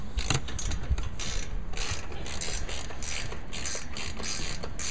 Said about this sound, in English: And then tighten the bottom bolts that are in the threaded plate.